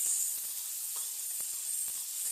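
Tomato and chili tempering for dhokli sizzles steadily in a pan, a dense close hiss with a few soft knocks of stirring and no voices.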